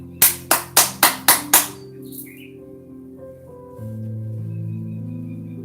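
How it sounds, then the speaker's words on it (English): Six sharp, evenly spaced hand claps ring out close by in quick succession, then give way to a low sustained hum and faint tones. "Let's clap 3 times or however many times you feel to let this energy move."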